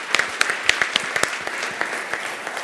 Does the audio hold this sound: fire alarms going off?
no